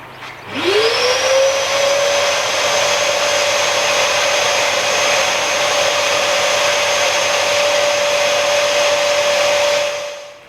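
A pond vacuum hoovering debris out of a koi pond starts up with a rising whine and settles into a loud, steady motor drone that runs on alone for about ten seconds.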